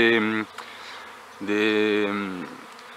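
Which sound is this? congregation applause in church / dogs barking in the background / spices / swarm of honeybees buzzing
swarm of honeybees buzzing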